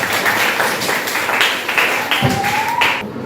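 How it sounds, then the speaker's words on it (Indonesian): Students applauding in a school classroom, a short burst of dense, fairly loud clapping that fills the room for about three seconds. "Beri tepuk tangan untuk kalian semua."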